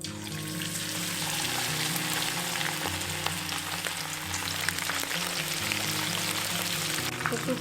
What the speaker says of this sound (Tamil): பேட்டரில் நம்ம எடுத்து வச்சுருக்க சிக்கன் லாலிபாப் டிப் பண்ணிவிட்டு இதில் ஆயிலில் போட்டுடலாம்